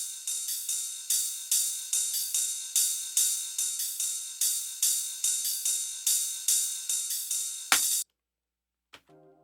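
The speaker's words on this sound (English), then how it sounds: "I have two rides, and then I have them both getting panned separate ways using auto panners" Two ride cymbals, auto-panned to opposite ears, ring in a steady, fast pattern of bright, shimmering strikes for about eight seconds, then cut off abruptly, leaving a couple of faint stray hits.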